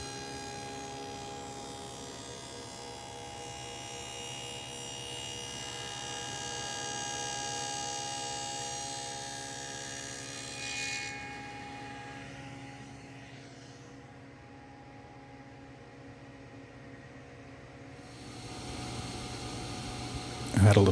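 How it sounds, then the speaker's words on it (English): A power tool cuts dados into the sides of pine door rails, making a steady, high-pitched whine and hum that holds for most of the stretch and drops away near the end. "Here I am cutting the dados in the sides of the rails so that we can fit those splines"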